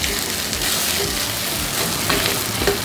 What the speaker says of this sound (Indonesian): Jadi bebeknya kita tumis sebentar ya